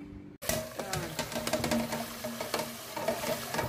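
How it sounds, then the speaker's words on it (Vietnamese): Thin slices of garlic are swished and rinsed in a bowl of water, a close, continuous patter of sloshing and stirring that starts abruptly and carries on alone. "Mình rửa tỏi nha các bạn."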